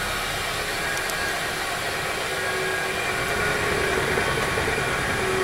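A wood lathe spins steadily at 580 RPM during woodturning, giving a constant loud mechanical hum and whir that holds unchanged throughout with no voices.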